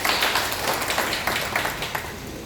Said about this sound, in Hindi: बहुत जोरदार ताली बजाएंगे भाई साहब इतनी देर से